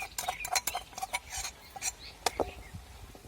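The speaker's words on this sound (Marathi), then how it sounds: "सगळा मसाला व्यवस्थित आपण हलवून घ्यायचा" A spoon stirs vegetables with spice masala in a pan, making soft, intermittent scrapes and light clinks against the metal, faint but close.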